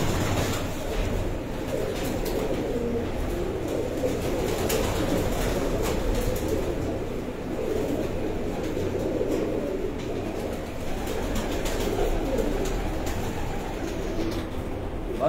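Pigeons kept on a rooftop loft of bred birds in Lala Musa, soft low cooing and fluttering murmurs blending into a steady ambient background, fairly close with no clear speech.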